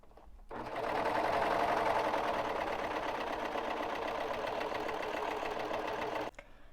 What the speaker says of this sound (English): You can use a zigzag stitch, or you can go ahead and use a serger, and I'm going to go ahead and use serger.